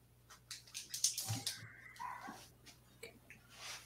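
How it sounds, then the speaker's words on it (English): Dogs barking in the background of a home, a series of quick, fairly faint barks and yips spread through the moment, somewhat distant, with a low hum underneath. "Can y'all hear my dogs barking?"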